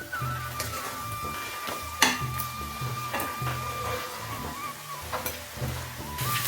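Onions and chillies sautéing in a pan, a low, steady sizzle with repeated scraping and tapping from stirring and one sharper clank, heard up close and fairly quiet with no talking.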